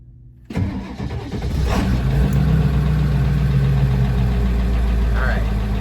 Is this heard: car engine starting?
yes